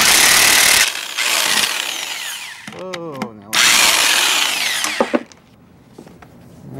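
Electric impact tool working on the brakes of a 1982 Ford F150, loud buzzing bursts of hammering rattle separated by short gaps, close up, with brief squeaks and someone talking in between.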